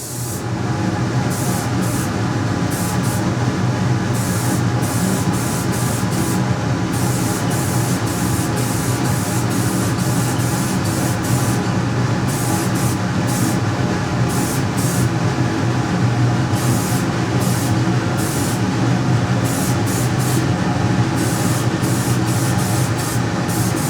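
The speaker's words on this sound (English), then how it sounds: "I'm spraying around the yellow and orange areas a little heavier" Spray can paint sprayed onto a radio-controlled helicopter canopy, a continuous close hiss that holds steady for the whole stretch with faint flickering pulses on top.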